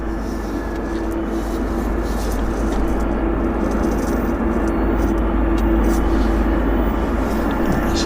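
A jet aircraft taxis out of the Horseshoe at Vancouver airport in winter, its engines giving off a loud, steady roar and whine that never lets up, while someone talks over it.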